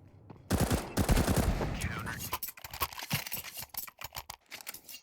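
Nova shotgun blasts in Counter-Strike 2 at a professional match on Nuke, several sharp reports scattered among rapid in-game gunfire and clatter, heard under excited commentary.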